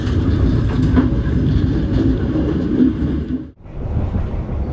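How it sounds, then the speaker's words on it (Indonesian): The Motis Utara long-distance train pulls out of Tanah Abang station at night, a loud continuous rumble of rolling wagons and wheels on rails that holds steady, dips briefly near the end, then resumes. "baru saja perjalanan kereta api Motis Utara meninggalkan stasiun Tanah Abang"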